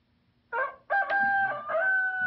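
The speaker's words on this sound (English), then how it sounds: "This is a chicken." A rooster crows once, a loud close cock-a-doodle-doo with a short lead-in note followed by a long sustained call, heard alone against a quiet background.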